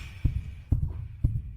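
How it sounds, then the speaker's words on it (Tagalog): A fast heartbeat sound effect, three loud thumping pulses at an even quick pace, each a deep double-beat throb, close and alone over a faint hum. "Ang mabilis na tibok ng puso ay baka dahil lang sa pagkabighani."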